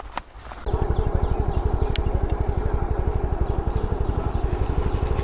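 A vehicle engine left running in the middle of a road idles with a steady, rapid low putter close by. It starts after a brief quiet moment and continues unbroken, with no voices.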